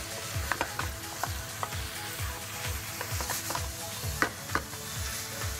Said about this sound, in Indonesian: Kita aduk, kita masak ayam sampai matang.